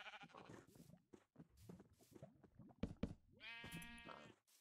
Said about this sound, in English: Let's grab the sheep now.